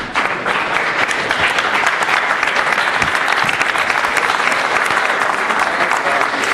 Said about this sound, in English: you all deserve to give yourself a round of applause